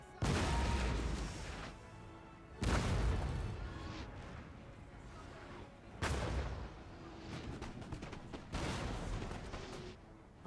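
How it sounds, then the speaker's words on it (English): Cannon artillery fire in the Napoleon Total War video game, four heavy booming volleys spaced a few seconds apart, each decaying into rumbling battle noise. "knock out these cannons"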